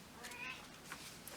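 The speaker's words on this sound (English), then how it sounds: "That's my cat meowing" Faint domestic cat meows, a few soft calls scattered over a quiet room background with no talking.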